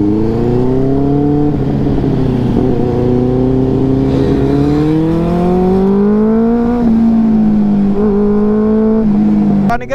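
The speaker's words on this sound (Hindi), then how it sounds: "अनिकेत भाई के साथ बहुत दिन बाद आज राइड कर रहा हूँ" A Benelli 600i and a Yamaha R15 V3 motorcycle ride together, engine droning loudly and steadily close by, pitch rising and falling as the throttle is worked, with a brief rev at the end.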